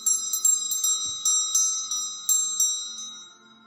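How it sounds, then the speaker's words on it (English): A small ritual bell is rung repeatedly in quick, uneven strikes, each bright metallic ding ringing on and slowly fading, close and clear with no talk. "she's got a lovely little bell here"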